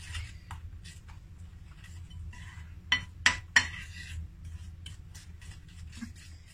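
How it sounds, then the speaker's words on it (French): Spoon stirring coffee ganache in a bowl, a few soft scraping strokes and three sharp clinks of metal against the bowl rim near the middle, close and quiet over a low hum. "Je vais mélanger pour avoir ma ganache au café."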